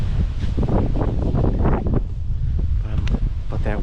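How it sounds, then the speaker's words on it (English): Westerly wind buffets across a North Dakota hillside, a loud, constant roar of gusts hitting the microphone, with someone talking underneath. "But that westerly wind is actually not bad at all."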